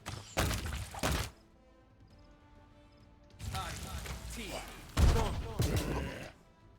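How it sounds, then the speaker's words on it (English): Magic missiles fire at a shadow in the Pathfinder: Wrath of the Righteous video game: two bursts of sharp, punchy impacts separated by a quiet lull, then a denser volley of thumping hits near the end. "And we will just shoot magic missiles at it."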